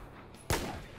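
A single sharp gunshot in the Battlefield 4 video game, one loud crack midway that decays quickly over low background game noise.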